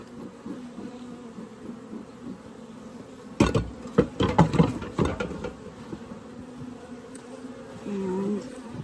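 Honey bees buzz around a Layens swarm trap set before a hive entrance, a steady faint drone with a burst of nearer, louder buzzing and knocking in the middle.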